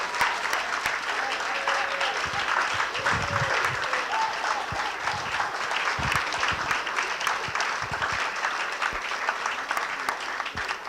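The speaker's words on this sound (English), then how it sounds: "Please, a standing round of applause." A standing ovation at an awards gala in a Hilton hotel ballroom, a large crowd applauding steadily and loudly for over ten seconds with a faint murmur of voices underneath.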